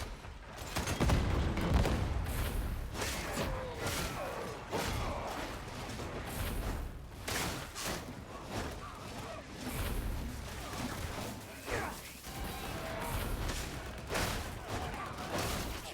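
Sustained gunfire and explosions fill a chaotic fight in the Warhammer 40,000: Darktide video game, with rapid bursts, booms and whooshes continuing throughout, a voice shouting now and then over the din.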